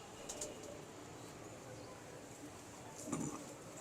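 Domestic pigeons cooing softly at a loft, low throaty calls under steady background noise, with a louder coo near the end.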